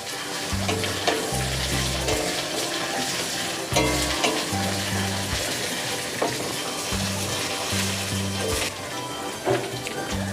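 Ginger-garlic paste frying in a pan for a fish-head moong dal and being stirred, giving a steady close sizzle with scraping strokes over background music.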